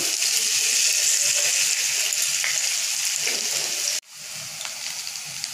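Potatoes sizzle and fry in hot oil in a pan with a steady, close hiss that briefly drops out partway through, then resumes more quietly.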